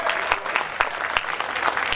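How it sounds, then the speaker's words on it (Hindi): An audience at a kavi sammelan, a Hindi poetry gathering, applauds loudly for ISRO, the Indian space agency. The clapping is dense and sustained, and sharper claps stand out from the steady wash. "ये तालियां मैंने इसलिए बजवाई है"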